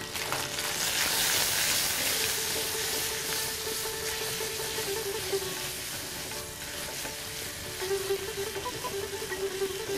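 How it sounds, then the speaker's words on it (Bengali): Ginger and turmeric frying in a pan for chholar dal, a close, steady sizzle with scraping stir strokes and a faint tonal ring from the metal pan. "আদাটা মোটামুটি একটু ভাজা হয়ে গেছে,"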